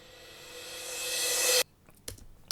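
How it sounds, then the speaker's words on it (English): A reverse cymbal in a Logic Pro pop remake swells from soft to loud over about a second and a half, then stops dead, followed by faint scattered clicks. "And I got a reverse cymbal."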